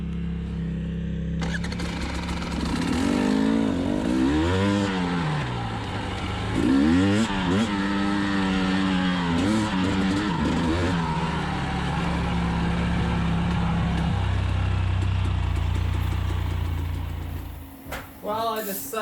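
A 2020 KTM 300xc TPI two-stroke dirt bike rides along with a close engine drone and repeated revving swells, while a rider talks over it before the engine fades out near the end.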